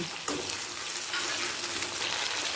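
Chopped tomatoes hit hot mustard oil with nigella seeds in a pan, giving a steady, loud hiss of frying that fills the whole clip without pause and has no voices over it.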